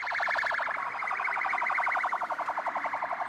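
Police car and ambulance sirens leaving a prison: a loud, continuous electronic wail that pulses rapidly, then shifts to a faster warbling yelp near the end.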